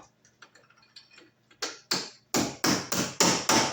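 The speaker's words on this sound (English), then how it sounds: "this is a snap-in MC cable connector here, so we'll pop that in the top of our box" Quiet fumbling ticks give way to a run of sharp, increasingly loud metallic clicks and snaps as a snap-in MC cable connector is pushed into the top of an electrical box.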